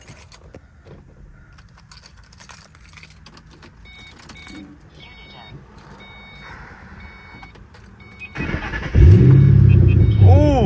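Ford Mustang engine cranking and starting after a coil pack repair for a misfire: soft clicks and warning chimes inside the car, then a loud starter whir and the engine catching into a smooth, steady idle.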